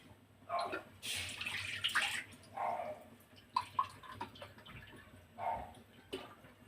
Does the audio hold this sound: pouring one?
yes